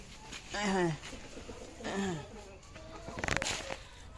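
Hens clucking in a backyard where twelve laying hens are kept, several rising, drawn-out calls in separate bursts at moderate volume, followed by scratchy rustling and a clattering noise near the end.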